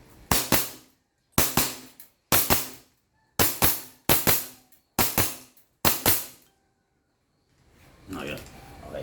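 An airsoft M4 Commando rifle fires seven sharp, close cracks, each a quick double report, evenly spaced over several seconds, followed by faint handling noise.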